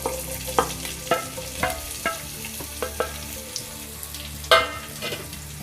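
Chopped onion hits hot oil with cumin seeds while cooking methi matar malai, a steady close sizzle broken by repeated scraping stir strokes and a sharper burst near the end, with no talking.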